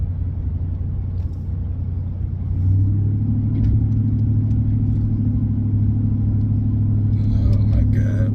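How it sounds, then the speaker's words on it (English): A loud, deep engine rumble from a 2004 Dodge Ram 2500 pickup with a 5.7 Hemi V8, muffler deleted and dual exhaust, drones steadily close by, swelling heavier partway through as the revs rise; no talking. "I think this truck is too damn loud."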